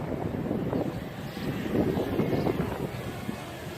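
Walkera Rodeo 150 drone flying outdoors in strong wind, its motors blending into a steady rumbling roar of wind buffeting the microphone, continuous and fairly loud for the whole stretch with no talk.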